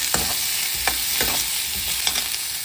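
Steady sizzling of onions, garlic and ginger sautéing in a pan, with a few clinks and scrapes of stirring breaking through the hiss.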